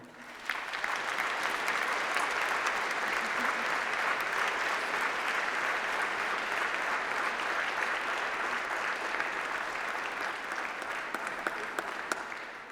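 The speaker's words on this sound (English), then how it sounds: "shall we have a round of applause for all those special people who are celebrating with you here today?" A large audience applauds at a university graduation ceremony, steady and loud clapping that carries on for several seconds without pause.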